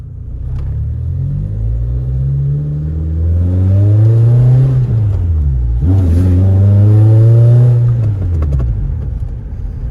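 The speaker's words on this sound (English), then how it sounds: "So Mark's first test drive, the Corolla." A Toyota Corolla on a test drive accelerating hard, its engine note climbing through two long revving pulls with a gear change between, loud and close, no voices.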